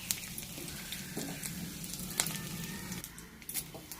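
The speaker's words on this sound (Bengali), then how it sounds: "ওই তেলের মধ্যে আমি দিয়ে দিচ্ছি জিরে ফোড়ন, শুকনো লঙ্কা ফোড়ন ও তেজপাতা" Cumin seeds, dried red chillies and bay leaf dropped into hot mustard oil left over from frying a fish head; a soft, steady sizzle with faint crackles and pops, close and fairly quiet.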